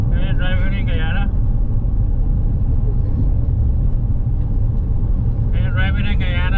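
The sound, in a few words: car driving on a road in Guyana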